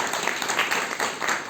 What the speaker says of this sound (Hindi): नई टीम के लिए एक बार शानदार ताली होना चाहिए।